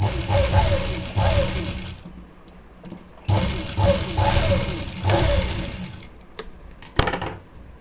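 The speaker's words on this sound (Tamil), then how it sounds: "மெலிசாக வந்து பைப்பிங் வந்து நம்ம ஸ்டிச் பண்ணிட்டோம்" A sewing machine stitches thin piping onto a plain blouse in several close bursts of a second or two each, separated by short pauses, with a few faint clicks at the end.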